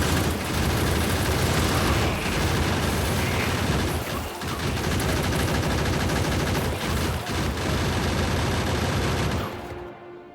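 Sustained turret fire in a self-balancing starter video game, a dense, loud, continuous barrage of rapid shots and booms for about nine seconds before cutting off abruptly.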